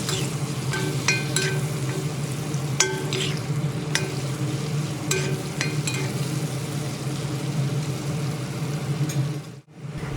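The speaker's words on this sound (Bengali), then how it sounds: "এই গরম তেলে আলু, সামান্য লবণ ও হলুদ গুঁড়ো দিয়ে ভালোভাবে নেড়ে চেড়ে বেশ লাল লাল করে ভেজে তুলে নেব" Potato pieces fry in hot oil with salt and turmeric, a continuous close sizzle broken by occasional sharp clicks of a spatula stirring in the pan, ending with a brief dip.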